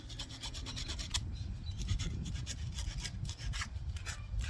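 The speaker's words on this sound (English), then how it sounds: "I do the sandpaper like this, and I rub on top like that, and I slowly turn it" Sandpaper rubs steadily over the cork handle of a fishing rod as it is slowly turned, a close, continuous scratchy rasp with a gentle back-and-forth pulse and no talking.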